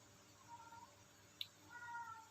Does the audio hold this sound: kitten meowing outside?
yes